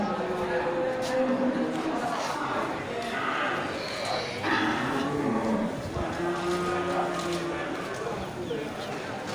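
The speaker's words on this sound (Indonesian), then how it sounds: "ini di lapak punya Nek Liah juga terlihat ini satu ekor sapi simental" A Simmental cow lowing at a sparsely attended cattle market during Ramadan, its moos rising repeatedly over a steady bed of crowd chatter and market noise.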